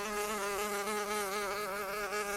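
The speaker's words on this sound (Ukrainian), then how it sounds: "Муха цілий день дзищала." A housefly buzzing close and steady throughout, a continuous droning whine with a slight wavering pitch and no pauses, heard alone with no talk.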